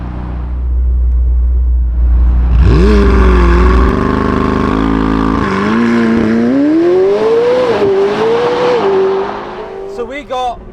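A McLaren 750S Spider launches hard off the line, its engine note climbing steadily through the gears with a deep low rumble at the start, loud and close for about ten seconds.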